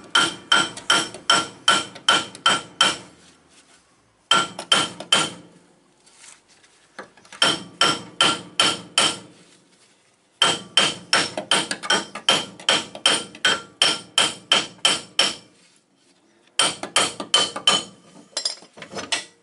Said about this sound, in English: don't really like hitting aluminium with a hammer